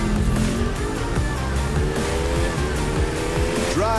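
Racing motorcycle in The Crew 2 driving game, engine held at full throttle with a steady rising whine and layered harmonics, loud and continuous with faint squeals.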